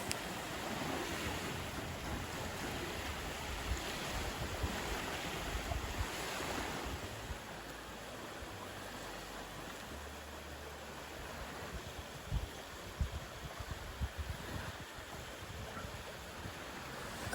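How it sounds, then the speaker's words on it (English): Waves wash steadily onto the shore at Sera Beach in the Togean Islands, a continuous broadband surf roar with wind buffeting the microphone and no voices. "a great place for relaxing, the sound of the waves"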